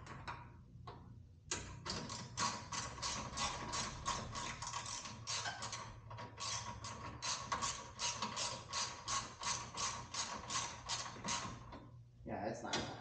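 A ratchet wrench tightens a headlight brace on a Subaru WRX, giving a long run of steady, rapid clicks that stay close and fairly loud throughout, with a short pause near the start.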